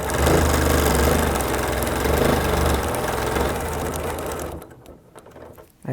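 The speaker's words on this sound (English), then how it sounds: "I'm going to stitch right to that chalk line. Stitch up and then stitch back down." A sewing machine runs a straight quilting line along a chalk mark, a steady close mechanical whir with dense rapid stitching for about four and a half seconds before it stops, leaving quiet with a few faint clicks.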